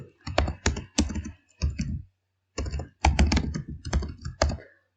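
C code is typed on a computer keyboard in close, loud bursts of rapid key clicks, split by short silent pauses.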